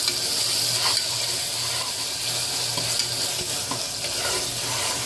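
Tomatoes cook down in a pan over a medium flame with a steady soft sizzle and occasional stirring scrapes, constant and fairly loud with no speech.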